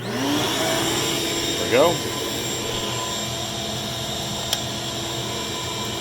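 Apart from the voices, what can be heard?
wet dry shop vacuum running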